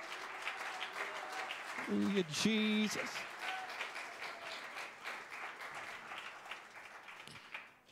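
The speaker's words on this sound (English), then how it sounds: "give him a hand clap of praise right now" A church congregation gives a hand clap of praise, steady broad applause running throughout, with a worship leader's voice briefly speaking over it.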